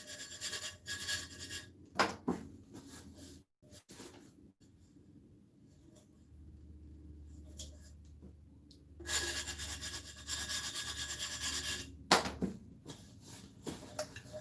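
A fingernail file rasps along the rough edge of a tumbler in bursts of short scraping strokes, loud and close, with a quieter pause in the middle.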